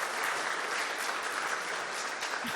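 Audience applause follows a live talk on creature design anatomy, a steady, dense wash of many hands clapping at moderate distance, continuous for the whole stretch with no voices over it.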